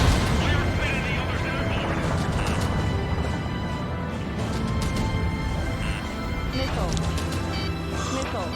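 Missile launches and anti-aircraft fire from the combat flight game Ace Combat 7, a dense continuous wash of explosions, booms and gunfire layered over game music and radio chatter, loud throughout.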